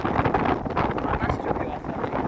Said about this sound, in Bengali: বাতাস যদিও আছে, অনেক বাতাস আছে।